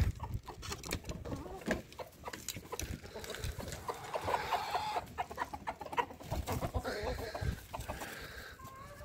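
Backyard hens, including aseel chickens, cluck continuously and close by in a busy, overlapping chorus, with occasional louder squawks and no talk.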